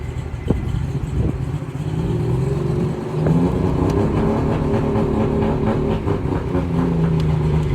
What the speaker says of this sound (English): So now I can rev it up just a little bit.